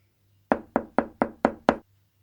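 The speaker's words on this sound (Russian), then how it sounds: "Кто-то постучался в дверь." Six quick, evenly spaced knocks rap on a door nearby, loud and sharp against a quiet room with a low hum.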